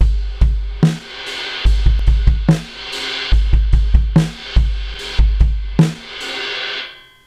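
A drum kit plays a busy sixteenth-note groove with steady kick and snare hits and a washing crash cymbal on top, repeating in a tight, even pattern.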